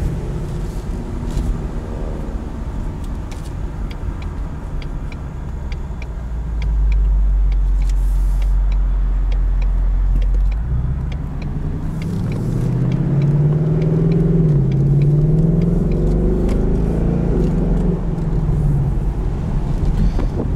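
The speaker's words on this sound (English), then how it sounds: "This just sounds like a Mustang should. And this isn't even the performance exhaust." A 2020 Ford Mustang GT convertible on its standard exhaust while driving, with a deep V8 burble and drone that rises into a louder revving swell midway, under steady wind and road noise and no talking.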